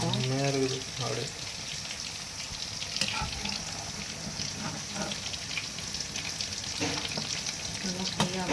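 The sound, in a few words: chicken frying in a pan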